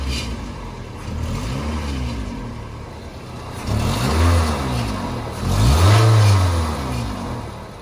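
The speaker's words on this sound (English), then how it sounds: "So I'm gonna rev it real quick." A car engine with a bad catalytic converter revs up twice in quick succession, rising and falling in pitch, loud and close, with idling in between.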